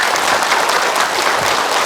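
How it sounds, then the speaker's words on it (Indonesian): A studio audience applauds Ustaz Munawir on the religious program Siraman Qolbu, with dense, loud, continuous clapping. "Silakan tepuk tangan untuk Ustaz Munawir."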